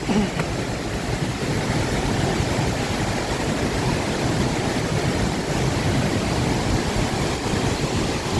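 Steady, dense rush of falling water at Haew Suwat Waterfall, Khao Yai National Park, loud and unbroken, like standing close to a waterfall.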